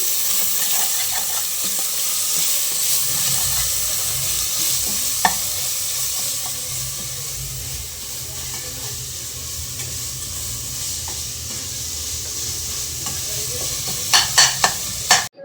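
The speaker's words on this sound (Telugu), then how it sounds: "కొంచెం అల్లం వెల్లుల్లి పేస్ట్ ఫ్రై అయ్యే వరకు పచ్చిమిర్చి పోయే వరకు ఫ్రై చేసుకోవాలి" Ginger garlic paste and green chillies frying in a pan, a steady close sizzle with occasional clinks of stirring, louder scrapes near the end.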